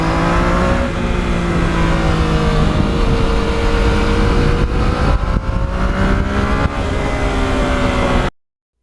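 A Yamaha MT-09 motorcycle's engine and exhaust drone steadily while riding, a loud, close, continuous tone that shifts pitch slightly as revs change, with wind rumble mixed in before cutting off abruptly.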